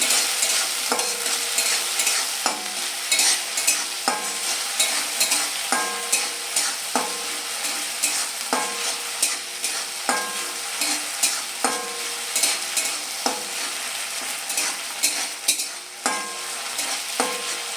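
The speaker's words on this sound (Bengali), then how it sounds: "যতক্ষণ না এ থেকে একটা কাঁচা গন্ধ চলে যাচ্ছে আমি এটা ভালোভাবে ভেজে নিচ্ছি" A pan of Bengali shukto spices frying steadily with a constant sizzle, punctuated by regular scraping strokes of a spatula stirring every second or so, close and fairly loud with no talking.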